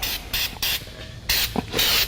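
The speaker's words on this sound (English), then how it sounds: "Shoot it up the seam. Spraying more like glue" A Flex Seal spray can lays a heavy coat of sealant along a seam in several short, sharp hissing bursts, close by, with brief pauses between them.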